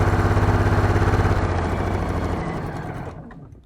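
A home sewing machine stitching a short reinforcement (backstitch) seam while piecing a quilted table topper: steady, rapid close mechanical whirring and needle clatter that slows and fades near the end.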